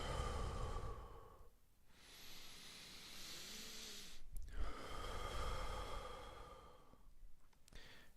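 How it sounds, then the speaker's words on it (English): A slow, deep breath drawn in and let out close to the microphone, a soft airy hiss that swells and fades, repeated a couple of times with short quiet gaps. "Okay, another breath."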